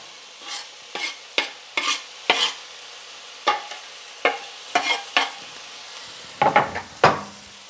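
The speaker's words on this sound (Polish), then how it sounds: "Wymieszamy tak, żeby mogła nam się również podsmażyć" Pearl barley and chopped onion are stirred in a frying pan, with repeated sharp scraping strokes against the pan over a faint steady sizzle.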